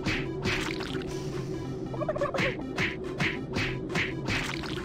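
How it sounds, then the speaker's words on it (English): Turkeys in a video game gobble repeatedly as they are punched, several loud rippling gobbles in quick succession over a low steady game hum. "You have to sit here for like 30 minutes punching turkeys."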